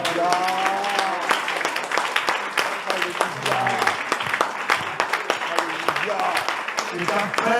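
A church congregation applauds in steady, dense clapping while a voice speaks over it in French.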